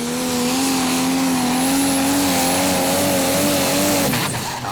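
A Mad Krog Energy pulling tractor roars loudly and steadily at a 2016 Eurocup tractor pulling event in Brande, Denmark, its engine holding a sustained high drone with slight pitch swells before cutting off near the end.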